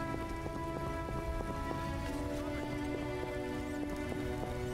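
Rain in the video game The Witcher 1, a faint steady patter of falling rain with a low background tone and repeating soft ticks, with no talk.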